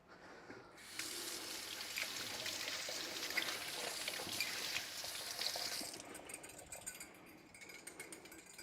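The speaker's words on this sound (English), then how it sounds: "I'm just going to rinse these off to use them again." Whisk beaters are rinsed under a running kitchen tap while making chocolate mousse; a steady rush of water starts abruptly, splashes for about five seconds, then cuts off, with no talking.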